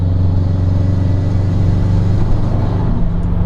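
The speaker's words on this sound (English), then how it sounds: "I think my ears are now toning into the intake more than my actual exhaust." A Subaru WRX hatchback engine fitted with a Cobb SF intake idles close and loud, a steady low rumble with a whirring intake tone underneath, no talk.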